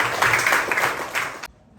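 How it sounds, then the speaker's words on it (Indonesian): A training class claps for group 5, a short burst of dense group applause that stops abruptly, with a little background voice. "silakan berikan aplaus kepada kelompok 5 ya"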